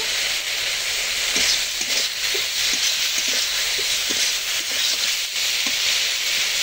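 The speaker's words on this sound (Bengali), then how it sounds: "বেগুনটা একটু কষিয়ে নিয়েছি" Brinjal pieces frying in spices in a pan, a loud continuous hiss and sizzle up close, with faint scattered spoon taps underneath.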